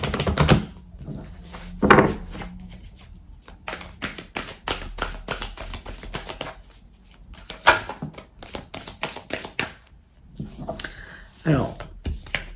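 Oracle cards shuffled by hand, a close run of rapid clicking, tapping riffles in uneven bursts with short pauses, under intermittent talk.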